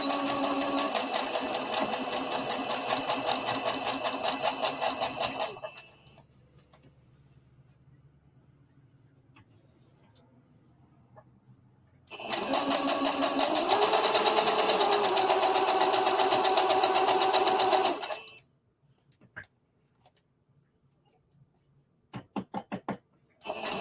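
A sewing machine stitches an umbrella circle dress in two long, loud, whirring runs separated by a quiet pause, with a few scattered clicks and handling knocks after the second run.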